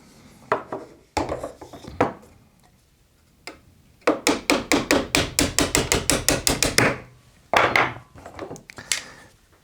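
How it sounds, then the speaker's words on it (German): Sharp metal hammer strikes on a pin of a B&T APC9K airsoft gun: a few scattered blows, then a rapid run of about fifteen evenly spaced taps, followed by several more hits. "Und wenn das nicht reicht, ja, hämmern wir das kurz mal auf."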